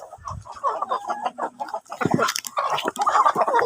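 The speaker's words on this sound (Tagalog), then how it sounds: "Gutom na ang ating mga manok" Hungry backyard chickens cluck and squawk up close in quick overlapping bursts of short busy calls, loud and dense, with no speech over them.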